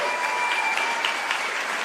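A gala audience applauds steadily, a dense wash of many hands clapping at close range with no speech over it.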